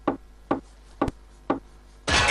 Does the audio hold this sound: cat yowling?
no